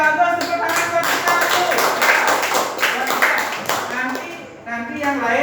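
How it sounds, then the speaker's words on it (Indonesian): Classroom of children clapping hands together in a dense, steady patter of quick claps lasting throughout, close and fairly loud, with voices mixed in. "Tepuk tangan buat kita"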